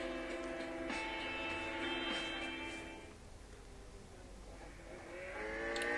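A McLaren MP4-12C race car in Gran Turismo 6 launches off the line at Bathurst, its engine droning and climbing through the gears with shifting tones, dipping briefly before rising again.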